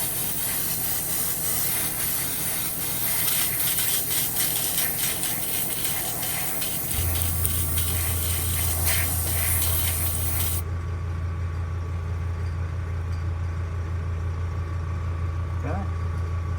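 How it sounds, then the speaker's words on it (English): Airbrush-style spray painting a fishing lure, a steady close hiss of the spray gun with a low compressor hum underneath; the hiss cuts off partway and the hum carries on alone. "I'm just going to flip over and spray the other side"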